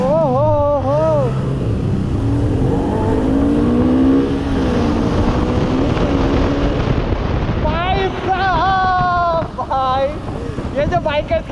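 Kawasaki Z900 and RS 200 motorcycles drag racing on an Indian road, with a loud engine roar and wind rush throughout and revving pitch sweeps rising and falling, while someone shouts excitedly over the noise.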